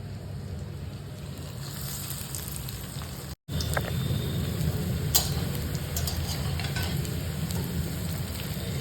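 Cornflake-coated soybean pakoras fry in oil in a wok, a steady close bubbling hiss that runs throughout with a brief dropout near the middle and a few faint clicks.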